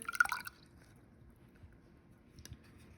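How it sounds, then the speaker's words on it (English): Water from a 1/8 cup is poured into a tiny beaker, a short splashing burst in the first half second before settling into near silence. "So here's my 1/8 cup of water. I'm going to pour it into the tiny beaker."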